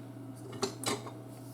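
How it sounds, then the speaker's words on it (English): A spoon stirs steak through thick tomato gravy inside an Instant Pot, giving two close, brief metallic clinks and scrapes over a low steady hum. "let me just stir this around a little bit"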